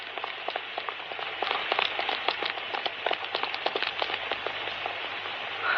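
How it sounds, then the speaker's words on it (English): Pouring rain from a radio drama sound effect, a steady dense patter of drops with sharper splashes throughout, loud and close with no talk over it. "Oh, Lord, it's pouring again."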